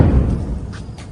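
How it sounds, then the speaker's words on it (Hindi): A loud explosion from a missile attack on Tel Aviv is heard as a single deep, heavy boom that swells and then quickly decays within about a second. "अब जोरदार धमाका हुआ,"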